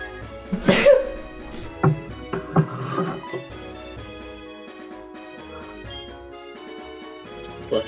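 A single sharp sneeze bursts out near the start, followed by a couple of smaller throat sounds, over steady video game background music during a Pokémon HeartGold/SoulSilver speedrun marathon.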